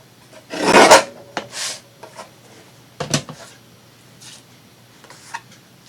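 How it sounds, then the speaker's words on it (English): A paper trimmer cuts paper for a torn-edge craft project in a few short, scraping strokes: one longer pass, then softer, brief rasps with quiet gaps between. "I'm actually feeling more comfortable with this trimmer."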